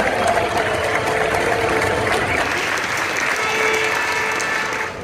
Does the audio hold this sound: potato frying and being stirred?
no